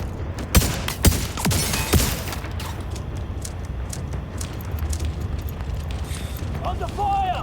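Gunfire in the shooter video game The Division Resurgence, a quick cluster of sharp shots early on, then a dense, rumbling wash of combat noise.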